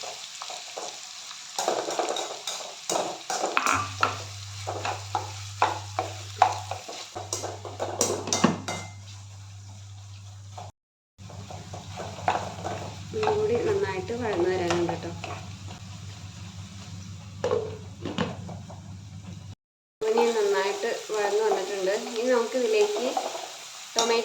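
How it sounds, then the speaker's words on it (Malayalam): Chopped onions fry in a pan with cumin seeds, sizzling steadily under a spoken voice, with spoon scrapes and pot clatter; there are brief cuts in between. "നമ്മുടെ ഓനിയനും ഏകദേശം ഫ്രൈ ചെയ്ത് കഴിയാറായി"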